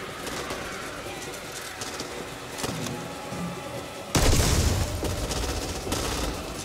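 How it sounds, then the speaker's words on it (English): Birds flutter and coo in the zombie shooter video game Back 4 Blood, with a sudden loud burst of rapid gunfire or flapping midway that stays loud to the end. "Okay, careful, birds."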